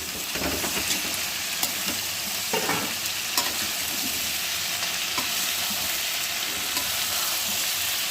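Ginger is stirred into a simmering potato and fish-head curry, a dense steady sizzle with faint intermittent scraping of a spoon in the pot, close and even throughout, no speech.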